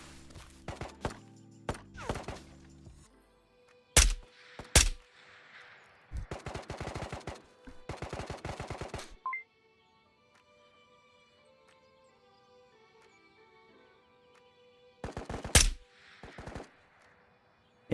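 Gunfire in the game Ghosts of Tabor: several sharp rapid-fire bursts and single shots with quiet gaps between, fairly close and crisp, no talk.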